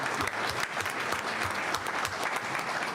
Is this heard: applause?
yes